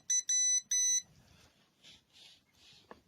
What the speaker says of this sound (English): we'll test the fuse off first. Got my continuity tester.